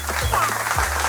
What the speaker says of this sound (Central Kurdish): ئافرین یەک چەپڵەی قایمی بۆ لێبەرەوە ئەم جارش